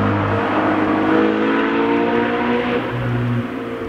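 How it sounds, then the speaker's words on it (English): An Audi R8 with a 4.2 V8 roars steadily on a mountain road at Wolf Creek, a loud, sustained engine drone with shifting tone and a brief rise in pitch near the end. "Being able to hear the engine sound, you know, bellowing and kicking off the mountain walls"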